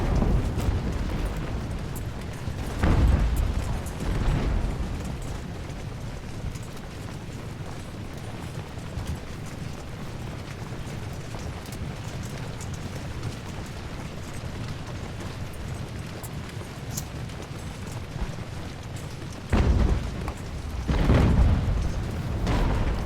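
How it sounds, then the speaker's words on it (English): Artillery cannon fire in Ultimate Admiral Age of Sail, heavy booming blasts at the start and again near the end with rumbling aftershocks, separated by a long stretch of dense low battle rumble. "Love the artillery there as well."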